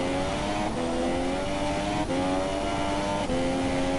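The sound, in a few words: F2 race car engine revving high in low gears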